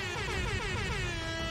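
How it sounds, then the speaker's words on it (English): An air horn sound effect in The Binding of Isaac: Repentance blares continuously, loud and alone, its tone wavering and sliding slightly downward across one long honk. "I plays an air horn sound."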